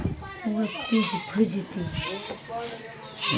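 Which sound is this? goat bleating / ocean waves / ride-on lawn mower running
goat bleating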